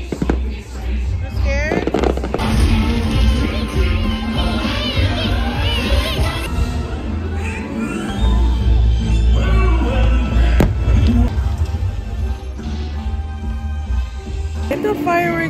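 Fireworks at a Disney World Halloween party pop and crackle in dense, rapid bursts, loud and close over a cheering crowd, with voices talking and shouting throughout.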